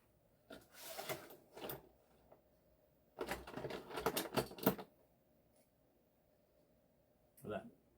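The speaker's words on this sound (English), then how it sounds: "I'm just cutting off a little bit of color on the corner." Knife cutting matboard on a Logan mat cutter in a quiet room, a few short, scratchy, clicking bursts with pauses between them, one longer stretch in the middle, all fairly faint.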